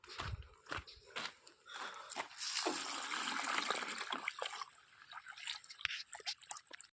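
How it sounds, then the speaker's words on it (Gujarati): Tank water poured onto a large tree splashes in a steady rushing spell through the middle of the pass, framed by scattered drips, taps and soft handling noises before and after. "હવે પાઈ છે જો આ મોટું ઝાડવું"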